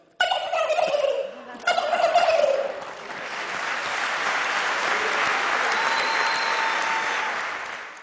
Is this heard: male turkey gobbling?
yes